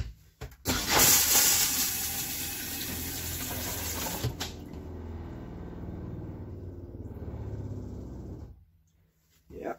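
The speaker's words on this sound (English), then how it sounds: "now it is time for our maiden flush" Thetford toilet in a 2018 Keystone Outback RV flushing: a loud rush of water and rumble that starts abruptly, holds steady for several seconds, then cuts off near the end.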